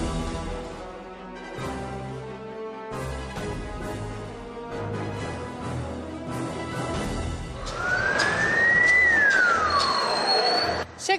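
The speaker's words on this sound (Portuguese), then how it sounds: "a ambulância do SAMU sendo escoltada por uma viatura da Polícia Militar" SAMU ambulance siren with a military police car escorting it, arriving at a hospital in Fortaleza, Ceará: a loud sweeping wail rising and falling over a busy news-report music and traffic bed, strongest near the end.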